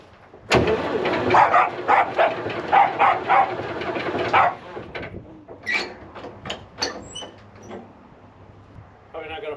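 A dog barks in short bursts near a D9H bulldozer being worked on, the barks loud and close, mixed with mechanical clatter and someone talking.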